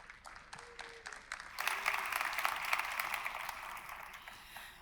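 An audience at a startup pitching event claps. The sound is faint and distant at first, then swells into a denser round of applause that continues to the end.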